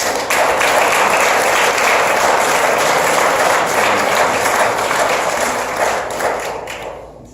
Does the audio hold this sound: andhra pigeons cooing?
no